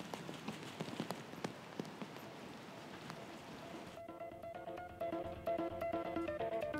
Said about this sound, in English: I love the slow-mo rain shot. It's also nice because you can actually see the rain a little bit more.